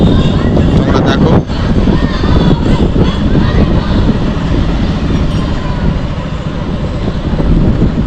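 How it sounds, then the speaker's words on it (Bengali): A train passes a closed railway level crossing at night while a crowd of pilgrims waits. The steady, loud rumble continues throughout, with voices mixed into the din. "এদিকে রেল যাচ্ছে।"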